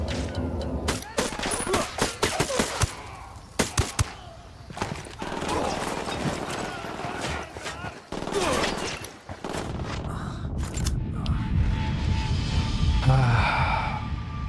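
Rapid bursts of automatic gunfire and single shots in the military shooter Ghost Recon Wildlands, loud and close, coming in clustered volleys with short pauses and muffled rumbling in between.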